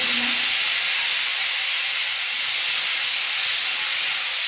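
Chopped tomatoes hit a hot pan where black cumin seeds are frying, giving a loud, steady sizzling hiss that carries on unbroken, with no voices.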